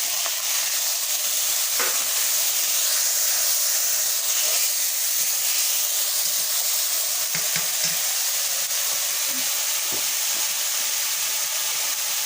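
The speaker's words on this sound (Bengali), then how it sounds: "সামান্য করে আমি একটু জল দিচ্ছি" Water added to a hot cooking pan sets off a loud, continuous steamy sizzle and hiss that holds strong and steady throughout, with faint stirring clinks underneath.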